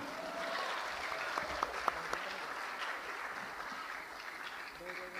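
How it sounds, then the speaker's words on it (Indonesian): Applause from the audience at a national Qur'an competition final, a faint, steady patter of clapping in a large hall with a few sharper claps and a voice briefly over it. "tepuk tangan bersama."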